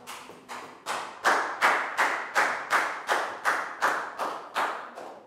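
A class of Year 4 children claps together in a classroom in a regular rhythmic pattern, about a dozen evenly spaced bursts of claps, moderately close and clear, with no talk over it.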